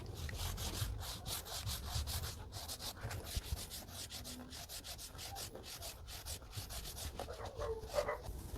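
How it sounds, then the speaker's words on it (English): Applicator pad rubbing a shine product evenly across a rubber floor mat, a steady close scrubbing and brushing texture running continuously throughout, with no voices. "Make sure you spread it evenly into the applicator."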